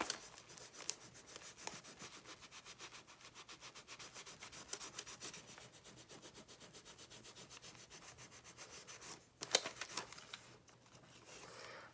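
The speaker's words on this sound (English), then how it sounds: "I'm just kind of giving it a little bit of pressure and rubbing and going all the way around" Heat transfer vinyl is rubbed firmly onto a shoe, making faint, rapid, rhythmic scraping and rubbing strokes close by that continue steadily, with a brief louder scuff near the end.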